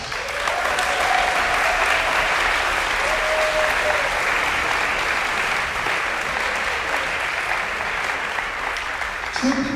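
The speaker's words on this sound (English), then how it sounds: "we need to give them a round of applause" An audience at a School of Music 125th anniversary celebration gives a round of applause, dense even clapping held at a steady loud level for the full length.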